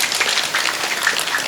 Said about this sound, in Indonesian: Tepuk tangan buat Pak Bupati.